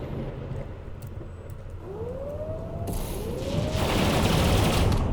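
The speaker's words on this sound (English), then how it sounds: "Danforth is shooting missiles" Missiles launching in the space game Endless Sky, heard as two rising whooshing streaks over a steady low engine rumble, with a burst of bright crackling noise building toward the end.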